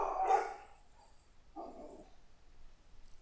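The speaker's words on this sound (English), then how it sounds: "And the dogs are going wild." Dogs bark at a horse-racing game session, two separate bursts, a sharp louder bark followed about a second later by a softer, muffled one, then quiet.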